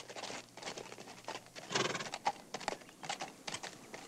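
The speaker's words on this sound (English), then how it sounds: "Step down off that horse." A horse in a 1960s western film scene: soft, irregular hoof clops and shuffling at moderate distance, with a few sharper knocks and a rustling backdrop, and no voices.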